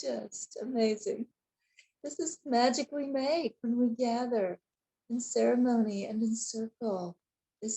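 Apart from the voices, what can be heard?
No distinct noise like a dog, phone or traffic.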